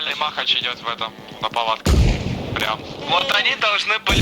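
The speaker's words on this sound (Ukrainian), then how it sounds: "Шкілюкс кидає гранату." A grenade goes off in the ARMA Reforger war game: a single heavy, booming blast about halfway through, loud and close, with someone talking over it before and after.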